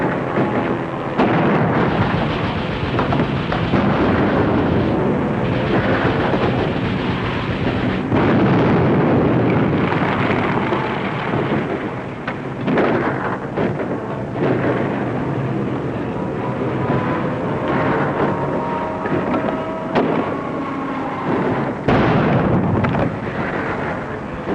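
A hand grenade sets off a powder house in a 1941 war film, producing a loud, sustained roaring blast and long rumbling aftermath that fills the whole stretch without any voices.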